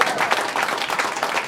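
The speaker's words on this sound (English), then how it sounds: "Nice round of applause, James" Brief burst of applause at a press conference for the Ward vs Dawson boxing match: dense, even clapping from a crowd lasting under two seconds, with no voices over it.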